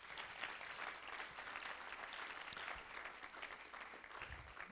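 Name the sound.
audience applause at end of lecture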